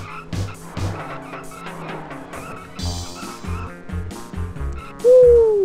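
A car races in the arcade driving game Cruis'n USA, with its engine running under loud, rhythmic in-game music. A sharp squealing tone near the end sounds like tires skidding.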